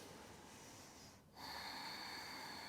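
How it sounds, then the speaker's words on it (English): A single deep breath drawn in at a calm morning yoga session, a soft airy inhale that swells after a brief pause and is held steadily to the end, close and quiet. "Let's take some deep breaths."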